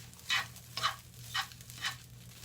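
Egg fried matzoh slides and sizzles in an oiled pan, four evenly spaced soft scraping swishes over a quiet background hum, with no talk.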